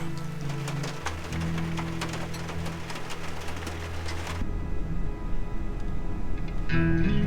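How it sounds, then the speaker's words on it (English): Steady rain patters and hisses on surfaces, a continuous wash of sound with a low hum beneath and occasional faint bird calls. "Well, our first rainy day of the trip."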